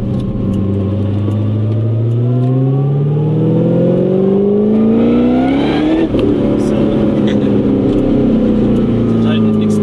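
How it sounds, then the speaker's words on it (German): Someone's 800 hp Corvette ZR1 accelerating hard, its supercharger whine climbing steadily in pitch over the engine roar, then dropping back and rising again after a shift, loud and close, with someone talking over it. "dadurch, dass dich von vorne gerade dieser Kompressor so anschreit"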